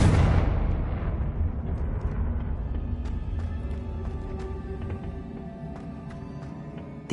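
A single loud blast from the Confringo spell in a Harry Potter video game opens with a sharp boom, then a long rumbling decay with scattered debris crackles and small pops fading over several seconds.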